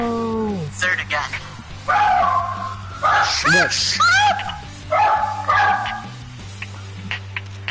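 A dog barks and whimpers in a room, with several yips and drawn-out whines across the stretch while people talk and laugh over it.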